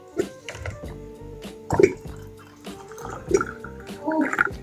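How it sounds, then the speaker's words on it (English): Warm kettle water poured into a container of dry mealie meal for porridge, giving gurgling, splashing liquid bursts in several uneven pulses, close and moderately loud, with no talking. "And then you put more dry mealie meal in the container and you add warm water."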